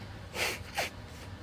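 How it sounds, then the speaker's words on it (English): Two short, breathy nasal blasts about a third of a second apart, fairly close and moderately loud, with quiet room tone around them. "I'm going to blow my nose."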